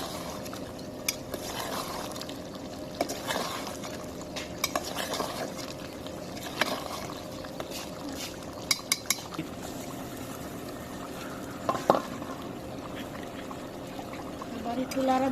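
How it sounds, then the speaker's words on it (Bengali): Goose meat curry being stirred in a pot, a spoon scraping and clinking against the metal now and then over a low steady simmer, with occasional louder knocks, fairly close. "আবার একটু নাড়া দিয়ে দিলাম।"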